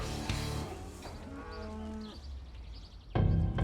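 Cattle moo close by as trucks are offloaded at a meat processing plant. Several drawn-out moos overlap one another, and a louder, fuller call comes at the end.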